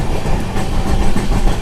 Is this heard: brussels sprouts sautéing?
no